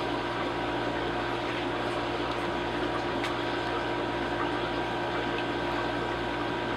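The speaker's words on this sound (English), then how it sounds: "Now I'll also do this with my siphon and hover over it." A siphon vacuums the gravel substrate of a freshwater aquarium during a water change, giving a steady hissing, gurgling rush of water with a low pump-like hum, constant and close throughout.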